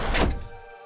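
A heavy iron door in the video game Welcome to Doll Town lands a single deep, loud thud that rings briefly and then fades into a quiet hum.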